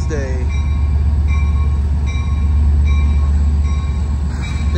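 An Amtrak Capital Corridor train led by a 2003 F-59PHI locomotive arriving at Emeryville station, with a loud continuous low diesel rumble and a steady roll of the rail cars, plus faint high squeals from the wheels.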